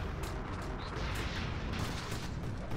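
Rumbling booms and crackling blasts overlap in dense, continuous bursts of in-game explosions and gunfire, loud throughout with no talking.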